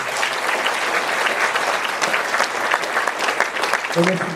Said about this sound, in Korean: 우리 스님들 위해서 큰 박수로 고맙습니다